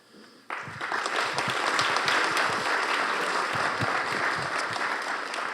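Audience applause fills a room at the close of a community evening program on immigrants, starting abruptly after a brief lull and continuing as steady, dense clapping from a sizable crowd.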